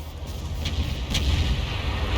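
A Manticore tank cannon fires in a video game, with short sharp reports cutting through a constant low engine rumble and battlefield din.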